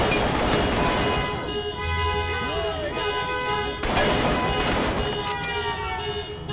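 Gunfire in the VR shooter ARKTIKA.1, with dense rapid shots and impacts over a steady droning tone, loud and near, paired with sharp swelling bursts.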